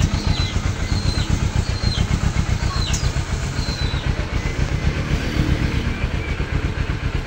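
A Kawasaki Vulcan S 650 motorcycle fitted with an aftermarket exhaust pipe idles with a deep, loping rhythmic pulse, close and steady, with faint chirping sounds above it.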